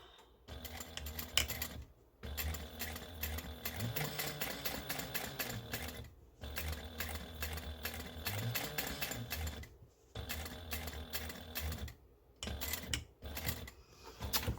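A sewing machine restitches vinyl in bursts of rapid, steady mechanical clatter, running several seconds at a time and stopping in short silent pauses, close and clear with no voices.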